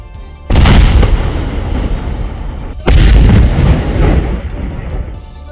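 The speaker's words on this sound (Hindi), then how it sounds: "ये धमाके किसी हमले के नहीं" Two huge, deep booming explosions from detonating unexploded Pakistani artillery shells in Jammu and Kashmir and Rajasthan, a few seconds apart, each with a long rumbling decay, loud and distant-sounding.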